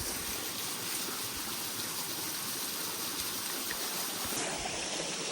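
A river in Wayanad rushes steadily, a soft, continuous hiss of flowing water with no breaks, heard alone at low level.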